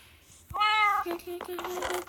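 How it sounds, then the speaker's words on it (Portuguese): A cat in the Minecraft video game meows, first with one clear drawn-out cry and then with shorter mewing calls, sounding close and fairly loud over faint background sounds. "Meu gatinho."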